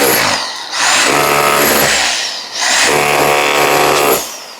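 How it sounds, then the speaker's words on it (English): An SDS Plus rotary hammer with a 4-piece masonry chisel bit hammers into concrete or tile in two loud, sustained bursts. Each burst carries a dense, buzzy percussive roar and is separated by a short pause. "so we're just able to like actually chisel."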